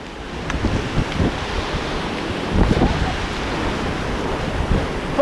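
River rapids on a rafting trip in Rishikesh: a steady, broad rush of churning whitewater fills the clip with constant roar and wind buffeting, with faint voices barely audible beneath it.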